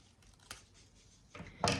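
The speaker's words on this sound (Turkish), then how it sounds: "Burayı da kesersem tamamdır." Scissors snip through paper during a paper craft project, a few quiet, crisp cuts with the sharpest snip at the end, close and with no voices.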